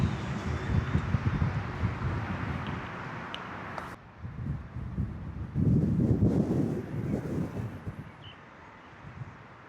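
Strong, dusty wind blows outdoors in uneven gusts, buffeting the microphone with deep rumbling bursts; it drops briefly in a short lull, then surges again, with no speech.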